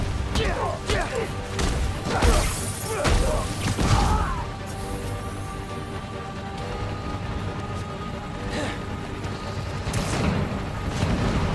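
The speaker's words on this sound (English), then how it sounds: "We need to head toward the gunfire." Gunfire and crashing impacts from the Spider-Man Miles Morales game on PS5 during a final boss battle, with bursts of shots and smashes scattered over a dense, noisy mix of effects and voices.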